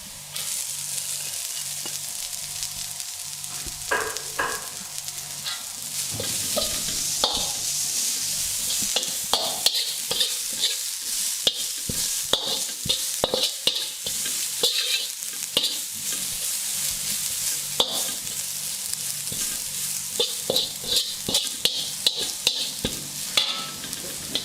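Spring onion stir-fried in a hot pan: a loud, continuous sizzle under repeated scraping and tossing strokes, with sharp clicks of the utensil against the pan throughout.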